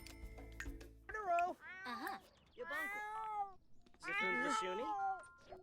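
Cats in The Sims 4 meow repeatedly, four distinct drawn-out meows in a loose sequence, close and clear over a quiet game background with no talking.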